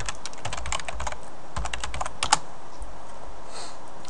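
Typing on a computer keyboard during Ubuntu 12.04 server setup, a quick run of close key clicks in irregular bursts with a louder keystroke near the end, no voices.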